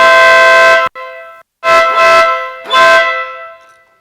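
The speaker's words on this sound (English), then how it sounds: "So we installed the Stiebel Nautilus air horn on his bike" Three loud, brassy blasts from a Stiebel Nautilus air horn on a Piaggio MP3 500 scooter, the first long, the others shorter, with brief silences between and a fading tail at the end.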